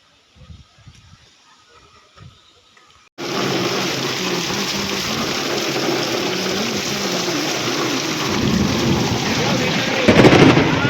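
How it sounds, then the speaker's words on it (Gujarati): A thunderstorm with heavy rain, starting with quiet background and a few soft knocks, then a sudden loud, steady roar of downpour that swells stronger toward the end. "જય કડાકા ને ભડાકા વરસાદ ચાલુ જ છે અત્યારે"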